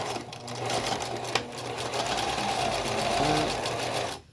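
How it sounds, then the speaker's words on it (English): A sewing machine stitching a fabric mask, with a steady fast whirring run that briefly pauses and resumes for a back stitch, loud and close, then stops abruptly at the end. "put the needle down, sew a little bit, back stitch a little bit"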